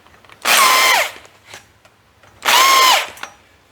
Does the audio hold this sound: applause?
no